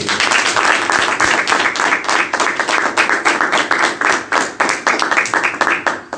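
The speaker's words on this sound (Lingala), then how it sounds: "Allez, nous pouvons applaudir" Audience applause at an installation ceremony in Cape Town, a crowd clapping steadily and loudly with a lively rhythmic pattern of many hands throughout.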